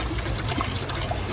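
Water trickles steadily out of the cooling system of a Honda Civic VTEC, a soft, continuous splashing dribble heard close with no voices.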